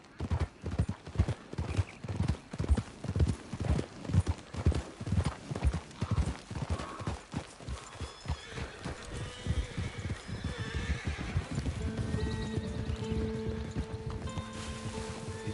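Horse hooves clip-clop in a steady trotting rhythm across the Red Dead Redemption 2 landscape, then slow and fade into a closer neigh and snorting, with soft ambient outdoor tones underneath.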